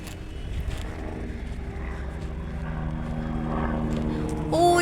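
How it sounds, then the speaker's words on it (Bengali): A helicopter on the Vaishno Devi route passes near a hillside hotel, its engine drone building steadily louder toward the end, with voices in the background. "সামনেই কিন্তু হেলিকপ্টার যাচ্ছে"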